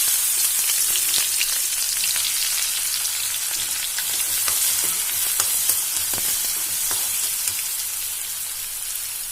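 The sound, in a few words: onions and green chillies frying in a pan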